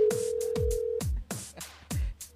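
A telephone handset emits a steady tone followed by a series of short, evenly spaced beeps, close and fairly loud, with no talking over them.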